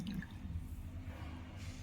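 Vinegar water drains from washed raw chicken pieces being prepared for barbecue, a soft close trickle and dripping that fades quietly over a couple of seconds.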